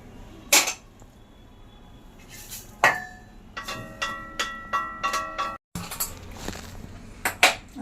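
Roasted sesame seeds are scraped from a pan onto a wide plate, giving sharp metallic clanks and a run of rhythmic scraping taps close by, with no voices.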